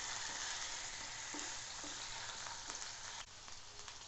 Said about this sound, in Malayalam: നമുക്ക് ഈ രണ്ടെണ്ണം വെച്ച് ഫ്രൈ ചെയ്തെടുക്കാം